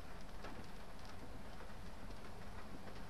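Soft, steady rain patter drumming on a car body, heard from inside the vehicle as a faint, continuous hiss with scattered drops and no talking.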